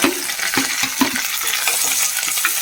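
Chopped garlic, green chilli, ginger and curry leaves sizzle steadily in hot oil with fenugreek seeds, a continuous close crackle broken by occasional scrapes and stirs of a spoon in the pan.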